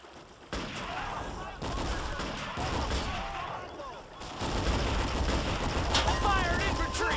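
Infantry gunfire from a Men of War battle, dense bursts of shots and rattling automatic fire mixed with explosions, continuous and loud throughout, with voices shouting over the fighting.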